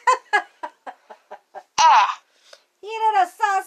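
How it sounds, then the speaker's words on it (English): A cartoon red hen in a children's reading app gives a run of quick, evenly spaced clucks, then a louder drawn-out squawk, followed by a voice speaking nearby. "Oh, Peg is a red hen."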